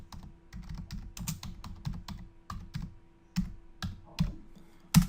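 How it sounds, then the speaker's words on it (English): Rapid clicking keystrokes on a computer keyboard as a search is entered, close and clear in uneven bursts with a few heavier key taps, no talking. "we could just type in"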